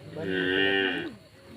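A buffalo lets out a single full, fairly close moo of about a second, heard alone with quiet background after it.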